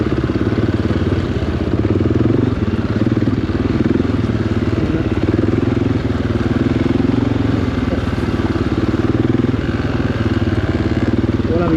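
A motorcycle riding off-road on the Hanthana hills near Kandy, its engine droning loud and steady throughout with rough clattering road noise and no pauses.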